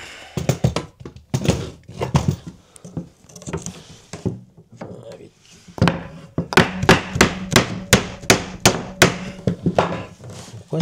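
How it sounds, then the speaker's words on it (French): A small hammer strikes wooden bed frame parts during assembly of a storage bed, starting with uneven thuds and then settling into a fast run of about a dozen sharp, regular, close blows. "Petit marteau qui va bien."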